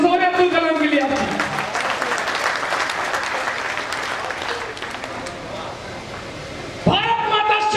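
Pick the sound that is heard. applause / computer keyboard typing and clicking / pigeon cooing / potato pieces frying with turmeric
applause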